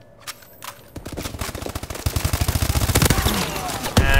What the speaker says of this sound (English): Why am I shooting through the wall?